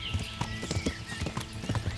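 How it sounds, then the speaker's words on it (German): Horse hooves trotting at a quick pace in the medieval video game Kingdom Come: Deliverance, a steady close clip-clop rhythm of a warhorse on a dirt road, running alone with no talk. "Wir sind echt flink mit unserem Pferd"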